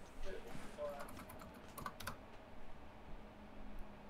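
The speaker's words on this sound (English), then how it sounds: "I'm still typing the bad thing." Rapid typing on a computer keyboard, a busy run of clicking keystrokes under a talking voice and low room noise.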